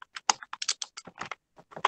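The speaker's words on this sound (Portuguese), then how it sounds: "Vocês vão continuar digitando." Students typing on computer keyboards in a computer operator class, a steady patter of crisp key clicks at close range with no voices.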